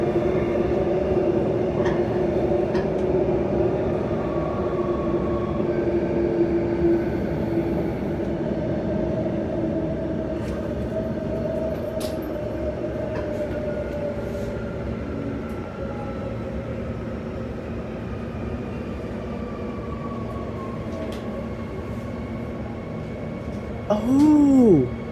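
A Transperth B-series electric train runs steadily out of Perth Underground, its interior motor drone and rolling rumble continuous and fairly loud, with faint clicks and a brief rise near the end.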